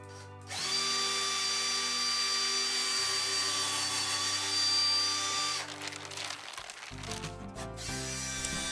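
A power drill bores into a piece of driftwood to seat hooks for a chandelier, a loud steady whine for about five seconds that drops in pitch partway, then stops and restarts in shorter bursts.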